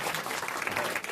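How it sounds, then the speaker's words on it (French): Brief burst of studio audience applause on a French radio comedy show, a short wash of clapping at moderate volume. "bravo, on vous applaudit, Monsieur Persiani"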